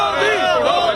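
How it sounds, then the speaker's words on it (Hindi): Crowd of supporters chanting "Modi Modi" in rhythmic unison, loud and close, many voices blending into one energetic slogan. "भीड़ ने मोदी मोदी के नारे लगाए"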